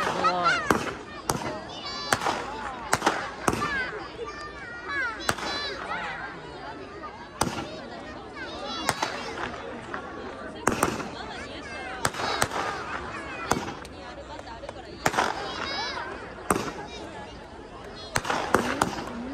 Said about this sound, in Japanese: けどおかげで花火が綺麗。